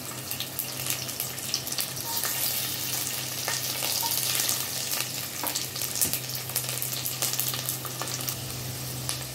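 Cumin seeds, ginger and garlic fry in a hot pan for an Indian paneer curry, giving a steady, close crackling sizzle that runs unbroken throughout under a low hum.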